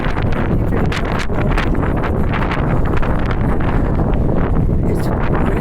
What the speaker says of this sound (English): Wind blowing like